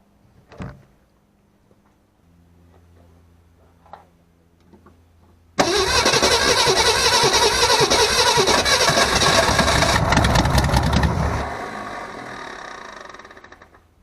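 A 1964 Ford Falcon with a rebuilt carburetor and new fuel lines cranks and fires up: faint clicks and a low hum, then a sudden loud catch into a steady close engine roar that later drops to a quieter idle.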